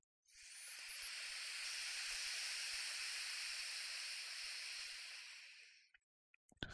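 A long, steady inhalation through the right nostril during a yoga breathing exercise, heard as a close, breathy hiss that swells quickly and holds evenly for about five seconds before fading out.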